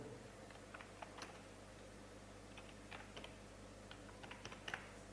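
Keys on a computer keyboard are pressed in Microsoft Word as scattered light clicks at an uneven pace, faint and close over a steady background hum.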